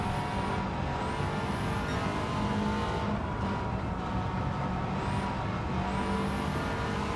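A Subaru WRX STI from 2004 accelerating hard in Gran Turismo 7, its engine drone steady and loud across the whole run, with a tyre or turbo whine rising briefly above it and no voices.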